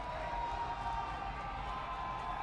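A basketball crowd in a college gym cheering and buzzing after a dunk and foul, a steady wash of sound heard from a distance with no sharp peaks.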